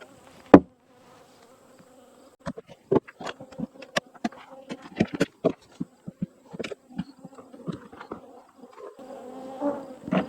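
Honey bees buzz around a hive during honey extraction in short, scattered bursts close by, individual insects droning past amid quieter stretches and soft handling sounds.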